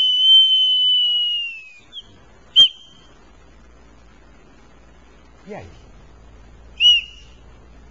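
A small bird-call whistle bought at Chapada dos Guimarães gives a long shrill tone, then two short chirps and a brief low sliding note, loud and close, with a quick spoken word in between.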